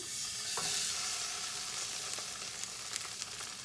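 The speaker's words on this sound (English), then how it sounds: "And I'm going to now add my salmon to the pan." A salmon fillet is laid into a hot pan and sizzles at once, a soft continuous frying hiss with a few light clicks from the pan as it settles, and nobody speaks.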